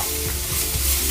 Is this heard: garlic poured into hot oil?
yes